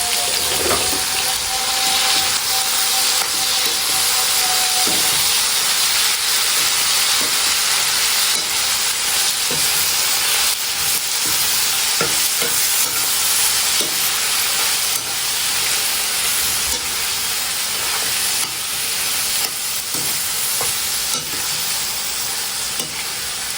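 Tomatoes and peppers hiss loudly in a hot pan, a dense steady sizzle with the occasional scrape of stirring, close and continuous for over twenty seconds.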